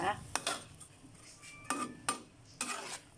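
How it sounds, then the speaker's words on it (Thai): Metal clatter of a lid settling onto a pot of Thai banana stem curry with chicken, several sharp clinks and scrapes spaced over a few seconds, close and moderately loud. "เดี๋ยวเราจะปิดฝานะคะเพื่อนๆปิดฝา"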